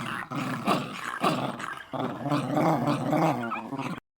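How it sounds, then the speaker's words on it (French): Two big dogs growl loudly and continuously up close, deep rumbling snarls rising and falling in long bursts with a brief break midway, no talking. "ils grognent très fort et regardent les voleurs"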